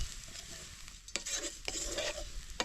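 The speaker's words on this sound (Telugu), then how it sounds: "నూరు పెట్టుకున్న వెల్లుల్లి కారం మొత్తం వేసుకొని ఒకసారి బాగా కలుపుకోండి" Bitter gourd fry being stirred in a pan with crushed garlic chili paste and curry leaves, giving a steady soft sizzle broken by a few sharp scraping strokes of the spoon against the pan, close and alone.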